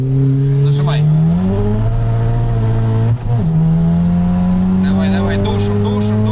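A Skoda Octavia A7 1.8T pulls hard in a drag race against an Audi A5 2.0T, its engine note climbing loudly through a gear, dropping briefly at the shift, then rising again, with people talking excitedly over it.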